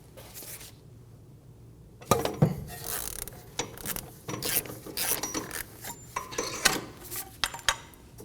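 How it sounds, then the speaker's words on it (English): An inner tie rod tool working the inner tie rod off the steering rack of a 2008-2015 Scion xB: a quiet start, then a series of ratcheting clicks and metallic scraping and rubbing from close by, with no talking. "Using an inner tie rod tool,"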